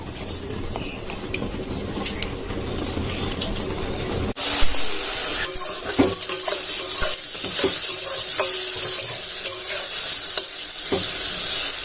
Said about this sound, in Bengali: আগে বেগুনগুলো ভেজে নিচ্ছি